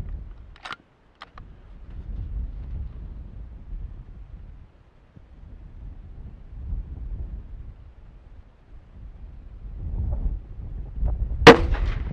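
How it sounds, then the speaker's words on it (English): A rifle loaded with handloaded rounds in new Winchester brass fires at a target, giving a single sharp report near the end after a stretch of low, quiet background rumble. "I'm going to shoot the right-hand target."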